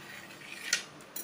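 A single quick snip cuts through a sheet of homemade cheese, one crisp, close cutting sound in an otherwise quiet kitchen, with no talking.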